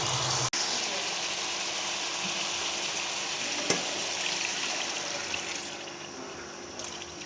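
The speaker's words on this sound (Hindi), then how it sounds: "ये देखिए ये पानी डाल दिया मैंने।" Water is poured into a pot of frying mutton and potatoes for a Pakistani aloo gosht gravy, a steady broadband sizzle and bubbling hiss running throughout, fairly loud and close, with a brief sharp knock near the start.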